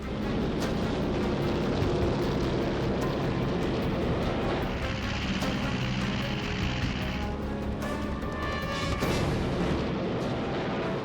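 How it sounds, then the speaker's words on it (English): Machine-gun fire from WWII Hellcat fighters attacking a Japanese strike force is heard as dense, continuous rumbling bursts and booms under a droning aircraft roar, loud throughout with a brief lull. "Here's the actual gun camera footage as Hellcat fighters from Hornet and Belleau Wood decimated that Japanese strike"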